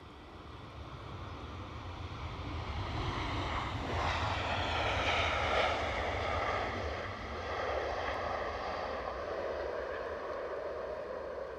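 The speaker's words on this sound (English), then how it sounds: "So Ryanair inbound from Dublin." A Ryanair jet inbound from Dublin arrives at Edinburgh Airport, a steady, fairly distant engine rumble and whine that swells briefly in the middle and holds, heard alone without talk.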